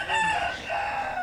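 A rooster crows and chickens cluck in Tenganan Village, Bali, the long nasal crow carrying loud and close over steady fowl chatter for just over a second.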